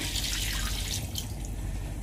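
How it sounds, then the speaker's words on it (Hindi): Water pours steadily into a cooking pot of mutton seasoned with salt and chilli, a continuous close splashing trickle lasting the whole moment with no talk. "पानी डालेंगे जी इसमें"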